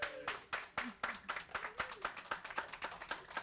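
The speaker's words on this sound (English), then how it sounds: "Let's give them a quick round of applause for this start" Quick round of applause from a small audience at an entrepreneur talk, steady brisk hand clapping with a voice talking over it at times.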